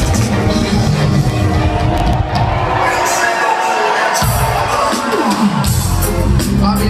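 A loud, dense crowd at a reggae concert in Vooruit, Ghent, cheering and shouting together as one sustained roar, close around the listener.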